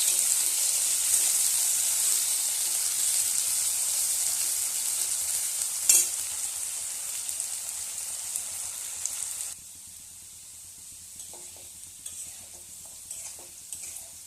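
Potatoes fry in a pan seasoned with panch phoron, a steady bright sizzle with stirring clatter, one sharp knock near the middle, then the sizzle drops quieter for the last few seconds, close and without talk.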